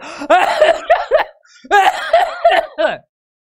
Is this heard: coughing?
yes